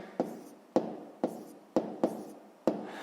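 Six sharp taps of a pen or marker against a board as numbers are written down for a 6th-grade maths exercise, spaced irregularly, near and fairly quiet.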